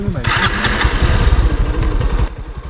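A motorcycle on a mountain road trip fires up nearby and settles into a loud, chugging idle with rapid pulsing beats, then drops slightly in level near the end.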